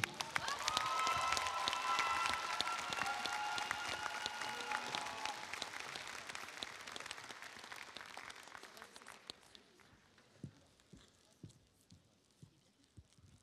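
A large crowd at the Toulouse Game Show applauds and cheers for President Loki, a loud wash of clapping with a held tone above it that thins out over the second half into scattered, distinct claps.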